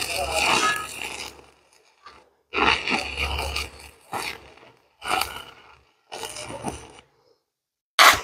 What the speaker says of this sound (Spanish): Ahora vamos a soldar el borde.